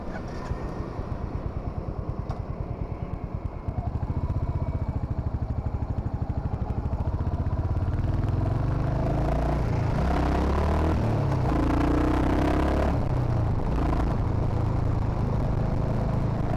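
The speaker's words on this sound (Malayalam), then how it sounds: "Fun exhaust നോട്ടാണ്. I am happy with it." A 2025 Royal Enfield Hunter 350 motorcycle exhaust while riding gives a steady, deep, throbbing rumble that grows louder and fuller after the first few seconds, with no voices over it.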